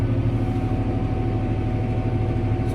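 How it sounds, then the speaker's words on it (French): A new seed drill running at the start of sunflower sowing, giving a steady, loud, even mechanical drone with a low engine hum and no pauses. "Donc là c'est parti, déjà ça tourne. Les roues tournent."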